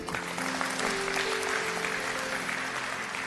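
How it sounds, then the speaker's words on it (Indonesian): Audience applause at a church sermon, a steady dense wash of clapping held at even loudness throughout, with faint voices beneath. "Tepuk tangan"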